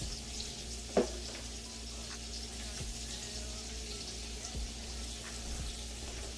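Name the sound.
sausage frying in a pan for jambalaya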